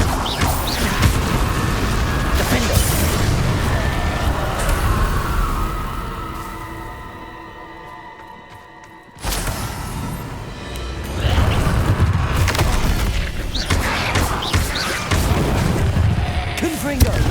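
In the Hogwarts Legacy game, a Confringo blasting spell erupts in loud booming explosions with a ringing tonal fade, then a second sudden blast bursts in and rumbles on.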